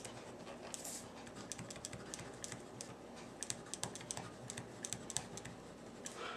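A Livescribe 3 smart pen writes on paper, making a quiet run of light, rapid ticks and scratches in irregular clusters.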